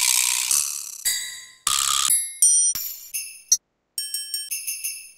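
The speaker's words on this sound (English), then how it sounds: "So I'm thinking like a sleigh bell." Sleigh bell sample played in FL Studio, a string of bright jingling hits with sharp attacks and quick decays, several shaking bursts followed by a rapid series of shorter rings, with no other sound.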